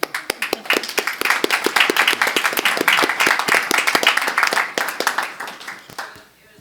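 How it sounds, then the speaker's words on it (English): A school board meeting audience gives a round of applause, with a dense run of sharp hand claps that hold steady for about five seconds and then trail off near the end. "we just want to give you a few rounds of applause"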